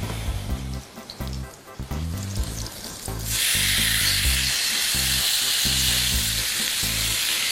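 A piece of marinated, dried meat hits hot oil in a pan. Quiet rhythmic thumps give way to a loud, steady, crackling sizzle that continues close and unbroken.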